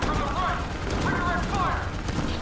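Bursts of gunfire in Call of Duty: Black Ops 3 run continuously over a loud, dense battle din, with people talking over the shooting.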